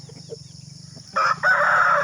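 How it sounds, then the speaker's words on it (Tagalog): A rooster crows loudly nearby in a single drawn-out call, starting about halfway through after a quieter stretch of low background hum. "Ito yung ginataguan ko na manok guys."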